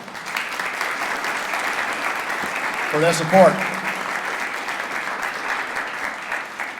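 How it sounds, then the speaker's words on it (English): An audience at a public campaign event gives a steady round of applause for a city safety department, with a voice briefly speaking over the clapping partway through. "Will you give our safety department a round of applause"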